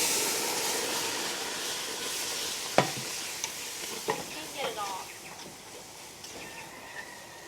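Liquid whisked into a hot pot on the stove, giving a steady hissing, steaming sizzle with scattered clinks and scrapes of the whisk against the pot, fairly close and continuous.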